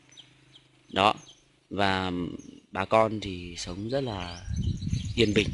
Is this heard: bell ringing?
no